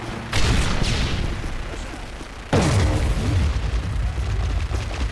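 Two loud grenade blasts in Modern Warfare 3, each a sharp boom followed by a long rumbling decay, about two seconds apart, with no talking over them.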